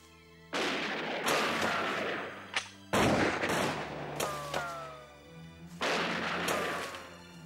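Gunfire in an animated pirate adventure series set in a forest, several broad bursts of shots with sharp cracks and ringing echoes, loud and close, separated by brief pauses.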